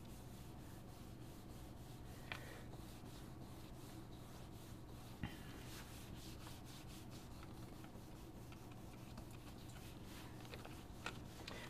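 Soft, steady rubbing of ink through small slotted stencil holes onto a card, a quiet continuous scrubbing with a few faint taps, heard close and alone.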